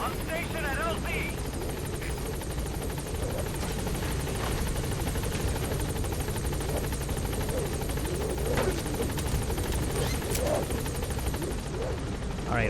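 A helicopter in the video game Metal Gear Solid V comes in to a landing zone, its rotor throbbing and engine droning loudly and steadily throughout, with a voice speaking over it.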